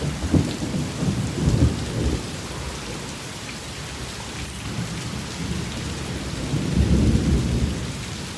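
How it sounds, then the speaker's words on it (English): Heavy rain pours steadily through a flash storm while low rumbles of thunder swell and fade beneath it, loud and close with no voices. "this was a flash storm if I've ever seen one"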